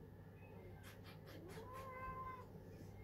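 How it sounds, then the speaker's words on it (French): A cat meows softly a few times nearby, a drawn-out plaintive cry over a quiet room. "Juste ça fait miaou."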